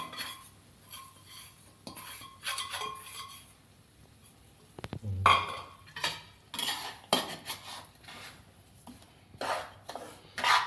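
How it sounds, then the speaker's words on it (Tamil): Semolina (rava) roasting in ghee in a metal pan for rava laddu, stirred with a spoon that scrapes and clinks against the pan in irregular bursts, close and moderately loud, with no talking. "நல்லா வாசனை வருகிற வரைக்கும் இந்த ரவையை போட்டு வறுக்க வேண்டும்."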